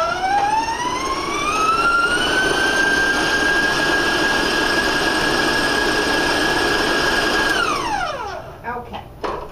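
Electric mixer whirring through triple chocolate cookie dough at high speed, its motor whine rising in pitch, holding loud and steady for several seconds, then winding down near the end.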